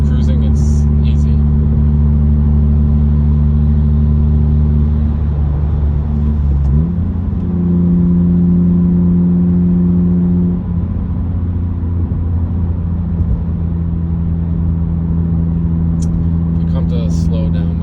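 A 2018 Honda Civic Sport with a straight-pipe exhaust cruising, its loud steady engine drone and exhaust rumble shifting pitch during a gear change, heard from inside the car.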